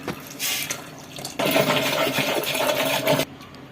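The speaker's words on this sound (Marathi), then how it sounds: "पाणी गरम झाल्यानंतर पाणी ह्याच्यामध्ये काढून घ्यायचंय" Hot water pours steadily into a wheat mixture for a traditional wheat kheer, a close, continuous splashing gush with a brief lead-in pour before the main stream, then stopping.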